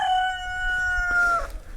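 A chicken's drawn-out call rings out close by a backyard compost pile, a single sustained vocalization with a short break near the end.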